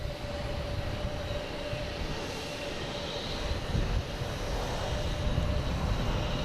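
A Delta Airbus A321 airliner arriving from Atlanta at Boston Logan International Airport, heard as a steady, fairly distant jet engine roar with a constant whine, continuous and without voices.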